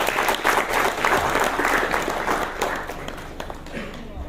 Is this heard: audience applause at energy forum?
yes